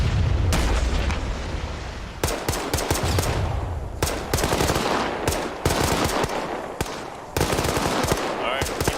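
Weapons fire in Arma 3 after a backblast call: loud repeated bursts of gunfire and heavy booms in irregular clusters, echoing between shots, with faint voices underneath.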